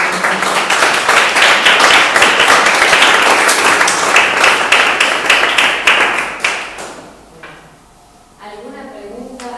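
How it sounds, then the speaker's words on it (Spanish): An audience at a seminar on disability and rights claps in sustained, dense applause that fades out after several seconds, followed by a voice speaking. "les quería pedir un aplauso para ella"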